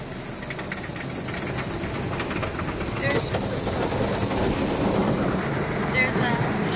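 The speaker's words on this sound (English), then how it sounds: "And here come the brushes. The brushes are spinning." Spinning brushes and water spray of a Shell car wash in Brentwood, Tennessee, make a steady, close, rushing whoosh that swells slightly midway and continues unbroken throughout.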